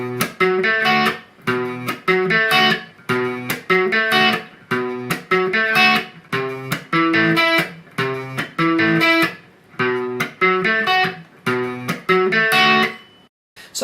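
Electric guitar plays the verse riff of a song with a distorted tone, chugging chords in repeated bursts with short gaps, loud and close, with no voice over it.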